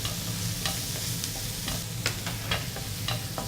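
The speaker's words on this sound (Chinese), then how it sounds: "我们找一把铲子呢，把这些食材煸炒一下。" Onion and garlic stir-fry in a pan over the lowest heat, a low steady sizzle punctuated by repeated sharp scrapes and taps of a spatula turning the pieces, close and unhurried.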